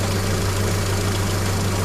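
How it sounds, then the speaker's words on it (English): Steady, droning idle from a 1997 Hyundai Coupe engine with a head gasket fault, continuous low hum and even rumble with no revving or pauses, close and fairly loud. "it's been like 10 minutes of like revving and idling"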